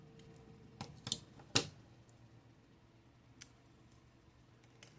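Scissors snipping a small crochet stick in a quiet room, a few faint sharp clicks and snips spread apart with one louder cut, no talking.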